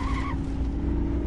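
A racing car braking hard into a corner at Misano in a racing game, tires squealing briefly over a steady droning engine that carries on after the skid fades.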